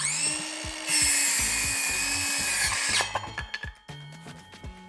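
A power saw on a freshly built homemade cutting rig bites through material in one loud sustained pass lasting about two seconds, then spins down into scattered knocks and handling clatter.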